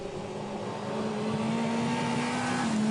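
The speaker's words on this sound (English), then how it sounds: "thrashing his 1300cc Suzuki for every ounce of speed that it has" A 1300cc Suzuki two-wheel-drive rally car is driven flat out on a forest stage, its engine holding a loud, steady high-revving drone that climbs gradually, heard alone with no talk.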